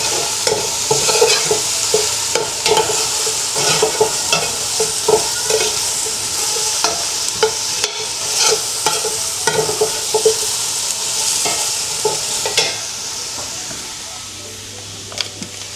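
Chicken browning in a pan for chicken sopas makes a loud, constant sizzle, with repeated scraping stirs sounding every second or so throughout.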